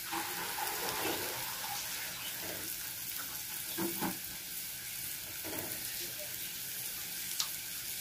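Pointed gourd (potol) pieces fry in oil in a pan, a faint steady sizzle with a few soft scraping bursts, no talk.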